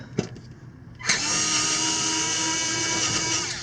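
Cordless power drill backing screws out of the rear catalytic converter security shield on a third-generation Toyota Prius, starting after a short tap with a loud, steady high whine held close by.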